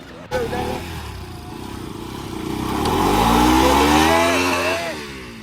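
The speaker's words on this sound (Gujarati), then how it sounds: "એમાં મસ્તી ભાઈ તો બાઇકના રોસાટિયા કાઢતા હતા અને પાછળ પિન્ટુ ભાઈએ એવા ને એવા ઊભા થઈ ગયા" A motorcycle engine revs up and roars nearby, rising in pitch and loudness before easing off, with a brief knock at the start.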